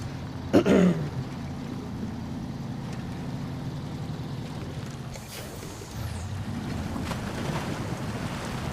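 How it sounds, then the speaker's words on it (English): A truck plunging into water in SnowRunner: a brief splash burst early on, then a long stretch of wind-like rushing water and churning noise, with a faint later swell. "Splash."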